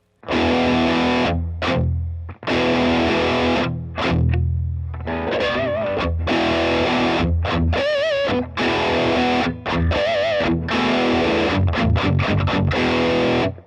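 Distorted electric guitar notes cut short by palm muting, with choppy gaps and brief silences between melodic phrases, loud and close.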